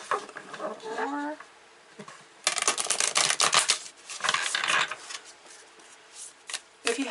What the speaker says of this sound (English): I'm going to shuffle them a little more.